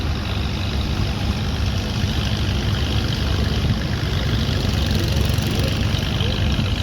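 A John Deere 7020 tractor drives past at an outdoor vintage farm equipment show, its heavy diesel engine a steady, loud low rumble that holds constant throughout with broad background noise.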